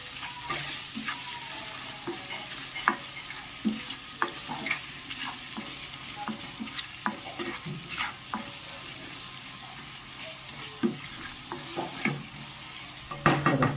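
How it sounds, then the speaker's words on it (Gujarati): Green chillies, turmeric, red chilli powder and salt sizzle in a pan while a spoon stirs them, with repeated scraping clicks over a steady, close frying hiss. "સ્વાદ અનુસાર મીઠું બધું સરસ મિક્સ કરી લઈએ"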